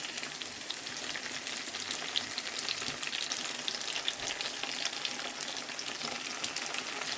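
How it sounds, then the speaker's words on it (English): Food sizzling steadily in a frying pan with browned onions as paprika goes in, a continuous close crackle with faint stirring scrapes and no talk. "So now I'm going to put paprika."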